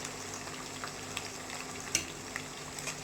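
Small onions sautéing in a pan for a Tamil vanjaram fish curry, a steady soft sizzling hiss with a few faint clicks and one sharper tap near the middle, no voices.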